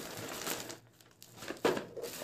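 Foil packaging from a Zeus Volt Gold trimmer crinkles and crackles close by in uneven rustling bursts, ending with a sharper crumple, with no talking.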